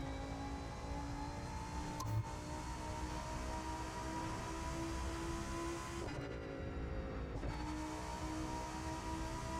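Car in the racing video game The Crew 2 accelerating toward top speed, a steady engine drone with rising harmonics that dips briefly mid-run as if shifting gears, then resumes; loud and continuous with no talk.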